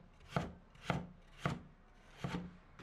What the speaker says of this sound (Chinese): 再全部切成薄厚均匀的片。